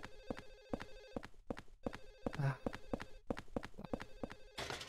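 Rapid, evenly spaced rings from a telephone in the Silent Hill 4 video game repeat throughout, with a short low thump midway and a burst of hiss at the end.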